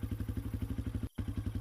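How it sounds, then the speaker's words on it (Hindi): Motorcycle engine with a steady pulsing low throb, close and fairly loud, with a brief cut to near silence before the rhythmic thrum resumes. "बाइक उसके बिल्कुल पास से निकल गई"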